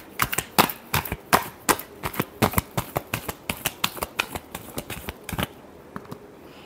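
Tarot cards are shuffled by hand in a rapid run of crisp, close riffling snaps, about two dozen quick bursts that stop abruptly near the end.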